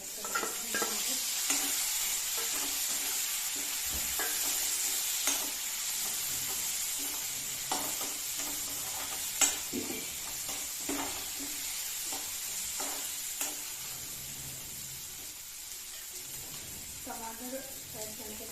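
Onions fry in a pan in Indian home cooking, giving a steady soft sizzle broken by repeated scraping and clinking stirs of a utensil against the pan.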